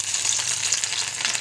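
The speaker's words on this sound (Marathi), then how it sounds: "आता आपण फोडणी देऊया" Spices sizzle and fry in hot oil in a kadhai for tempering a Chinese-style Manchurian dish, a loud, continuous, close-up crackle and hiss with no voices.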